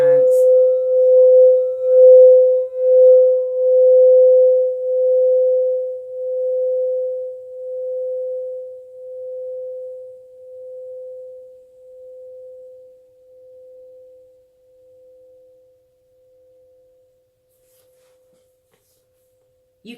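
A crystal singing bowl, stirred around its rim, rings out one steady pure tone that swells and pulses at first, then slowly fades to silence over about twenty seconds.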